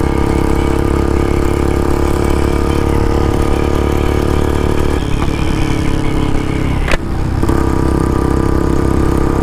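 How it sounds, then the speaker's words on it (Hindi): Royal Enfield Bullet motorcycles, a BS6 model against an older standard one, racing side by side at about 100 km/h on a cold road, with a steady loud engine drone and wind rush throughout and a brief sharp knock near the end. "बुलेट 100 पे चल रही है, वो भी 100 पे चल रही है।"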